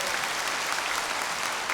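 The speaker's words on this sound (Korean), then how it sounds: "하나님께 박수." Church congregation applauding in praise of God, a loud, dense and sustained burst of clapping with no talk over it.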